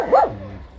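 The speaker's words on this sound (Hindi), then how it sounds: "क्यों भौंक रहा है ये लड़का।" A single dog bark in a residential neighborhood, close and fairly loud, followed by a faint low tail.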